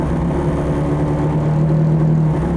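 Race-tuned classic Mini engine idling loud and close as it warms up, a steady continuous drone with no voices.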